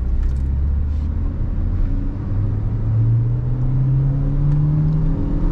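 Kia Sonet HTK Plus 2021 petrol car accelerating toward 100 km/h, a steady close engine drone with a rising pitch sweep over road and wind rumble, continuous and loud throughout.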